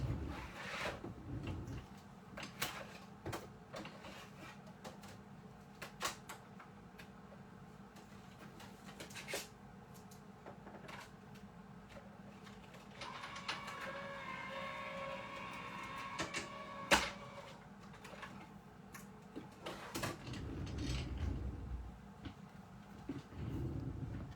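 A tabletop embossing machine cranks card stock through during a card-making craft session, giving a steady low mechanical rumble with grinding and creaking near the microphone, clacks at the start and end of the pass, and no talking.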